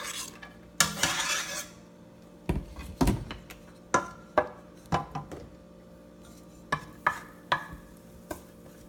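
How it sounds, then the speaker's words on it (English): Chopped garlic goes into a pan, followed by loud metal spoon scrapes and knocks against the pan, irregular stirring clatters with quiet gaps between. "To this, we're going to add in our garlic that we chopped."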